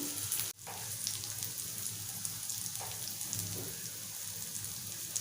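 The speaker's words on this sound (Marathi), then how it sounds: "आता आपण एका साईडनं दोन तीन मिनटं फ्राय करून घेऊया स्लो गॅसवरती" Semolina-coated potato slices shallow-frying on low heat in a pan, Malvani style, giving a steady, even crackling sizzle after a brief knock at the start.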